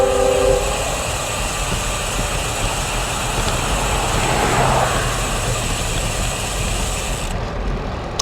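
A train rolling past near a road, heard as a steady, continuous low rumble with a faint higher whine over it, fairly close and unbroken, with no voices.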